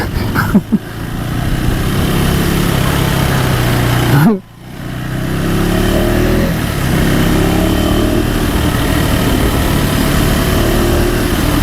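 A 2025 KTM 390 Adventure X motorcycle engine pulls hard under throttle, a loud, close, steady drone with a brief dip partway through before it climbs and holds again, with no talk.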